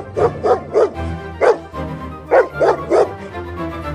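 A dog barks in a series of sharp, loud, close barks and yips, grouped in quick bursts of two or three with short pauses between, no talk over it.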